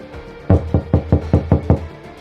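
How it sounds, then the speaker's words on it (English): Seven sharp knocks on a door, loud and close, in a quick, even rhythm after a brief pause, with no other sound around them. "I knocked on the door, a sharp, deliberate sound that cut through the comfortable silence of their dinner party"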